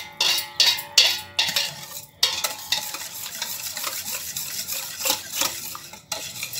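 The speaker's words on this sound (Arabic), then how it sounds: "هنقلب كل الحاجات دي كلها مع بعض بقى كده" Yeast, sugar and salt stirred together in a bowl with a spoon: a few quick clinking strokes at first, then continuous scraping swirls that rise and fall, close and clear.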